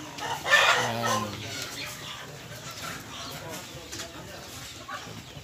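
Mixed-breed heritage hens sitting in nests full of eggs cluck and murmur close by, one louder call near the start, while someone talks over them.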